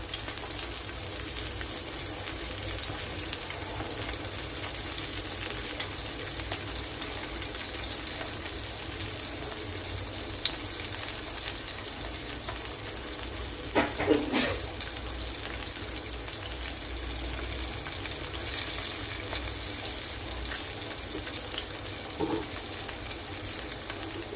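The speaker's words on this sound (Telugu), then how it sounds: "చూడండి, బాగా ఫ్రై అవుతుంది కదా." Fish frying in hot oil makes a continuous, even hiss and crackle for a long stretch, steady and close, broken only by a brief louder rustle partway through.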